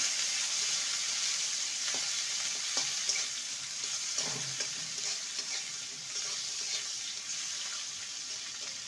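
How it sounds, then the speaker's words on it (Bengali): Steady, hissing sizzle of onions frying in hot oil, continuous throughout with a few light stirring scrapes and no talking. "পেঁয়াজটাকে হালকা ভেজে নেবো"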